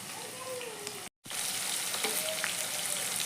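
Ingredients fry in a pan with a steady, close hiss of sizzling oil, broken by a brief silent cut early on before the crackle resumes.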